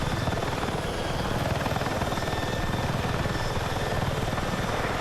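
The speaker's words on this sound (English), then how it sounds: "I was flying the chopper." A military helicopter flies in the video game Battlefield 6 with a loud, constant rotor chop and engine drone, its rapid even beat filling the whole stretch without speech.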